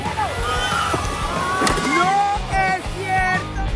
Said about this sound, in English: this 5-ton orca made an unbelievable breach